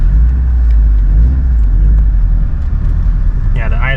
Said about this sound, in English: the idle is definitely a lot nicer now.